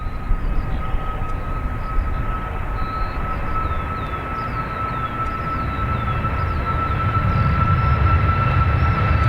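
An aircraft lines up on runway 28 right at Dublin Airport, a steady engine drone with a sustained whine, growing slightly louder toward the end, no talk over it.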